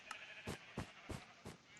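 A Minecraft sheep bleats several times in quick succession, short soft repeated calls in a game setting, with no talking over them.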